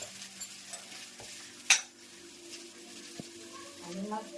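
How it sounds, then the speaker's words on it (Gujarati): Vaghar tempering sizzles quietly in oil for a brinjal oro dish, a soft continuous hiss with one sharp utensil clink and light talking in the background. "સરસ મજાનો વઘાર થઈ જશે"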